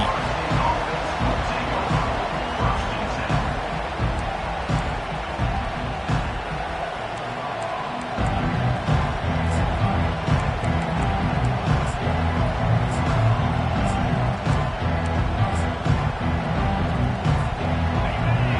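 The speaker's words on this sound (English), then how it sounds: "This crowd trying to show them what it's going to be like all day in this house." A stadium crowd roars steadily in the NCAA 25 college football video game during a kickoff return, a dense, sustained cheer that swells louder partway through, with commentary talk over it.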